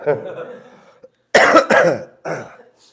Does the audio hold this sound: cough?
yes